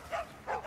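A purebred dog gives two or three short, soft barks close by, each a brief yelping burst separated by quiet gaps, with no talking.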